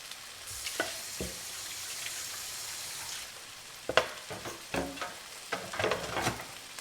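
Filipino-style corned beef fries in a pan with onions and tomatoes, a soft low sizzle under a series of scraping and stirring knocks that grow busier toward the end, with no talk.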